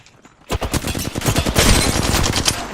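Rapid automatic gunfire in a battle royale shooter game erupts after a brief quiet start, a dense string of loud, close shots that keeps going with bursts overlapping into a continuous rattle.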